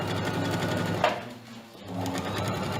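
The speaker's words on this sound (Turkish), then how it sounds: "Çekerek lastiğimi dikiyorum" A sewing machine stitches elastic onto a waistband, a steady close whirring hum that briefly slows and dips in the middle before resuming at full pace.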